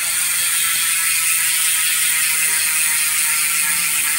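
Fast, steady ratchet clicking from a Hassns Pro 7 mountain bike freehub with two pawls removed, freewheeling, a continuous bright buzz of tiny clicks held at an even pace.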